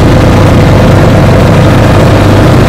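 An auto rickshaw engine runs steadily and loudly throughout, a continuous low rumbling drone with no talk over it, heard from inside or right beside the vehicle on a road trip to Himayatnagar.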